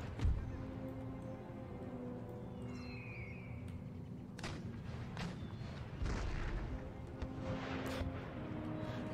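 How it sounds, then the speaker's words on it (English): Artillery fire in the Empire Total War strategy game: several distant booms and cannon thuds scattered over a steady battlefield rumble, with faint whistling projectiles. "Artillery's doing a good job of missing"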